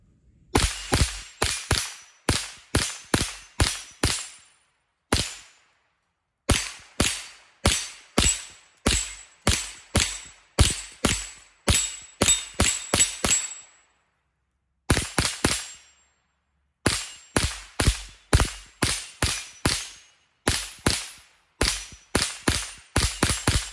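Ruger 10/22 Magnum rifle firing from an MWG 50-round magazine, a long run of sharp, loud shots in quick rhythmic strings broken by a few short pauses, close and with no talking.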